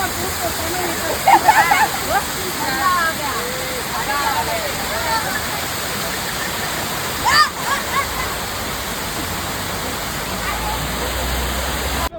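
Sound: waterfall

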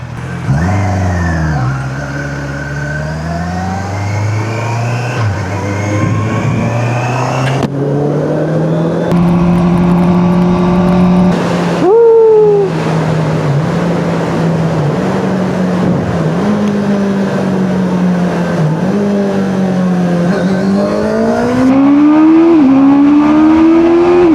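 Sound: many cars driving past on a road

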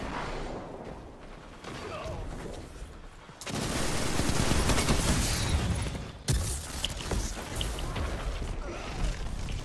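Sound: sniper gunfire in the video game Destiny 2

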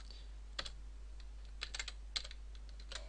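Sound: typing code on a computer keyboard

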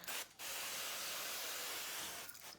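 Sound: spraying cooking oil over mini shashlik before baking

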